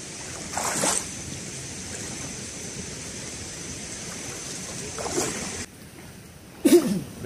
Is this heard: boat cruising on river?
yes